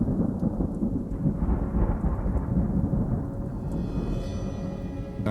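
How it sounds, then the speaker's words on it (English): A summer thunderstorm over a swamp: steady, loud rain hisses throughout while deep thunder rumbles and rolls continuously underneath, with no voices. "As the summer turns, storms roll in."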